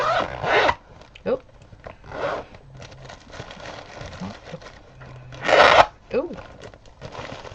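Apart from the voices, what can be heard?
zipper snagging on fabric project while unzipping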